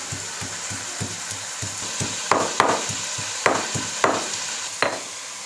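Chicken sizzles in hot ghee for a malai handi, with steady frying hiss under a rhythmic series of scraping, knocking strokes as a spoon stirs the pan, several sharper clacks standing out near the end.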